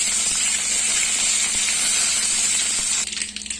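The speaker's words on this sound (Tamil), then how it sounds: "கடுகு நல்லா பொரிஞ்சிருச்சு" Mustard seeds and curry leaves splutter in hot oil, a steady close hiss and sizzle with faint crackles and pops, easing off slightly near the end.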